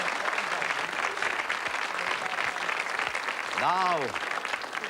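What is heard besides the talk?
round of applause at a quiz night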